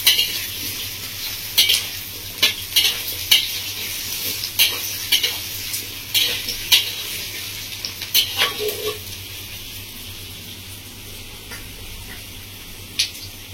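Potatoes cut into long strips are sautéed in oil in a pan, with a steady sizzle broken by frequent sharp scrapes and taps of a spatula against the metal, busiest early and thinning out toward the end.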